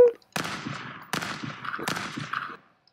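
A gun fires in the video game Stick Fight, three sharp bursts of rapid shots about three-quarters of a second apart, each trailing off in a rattling decay, fairly loud with no talk.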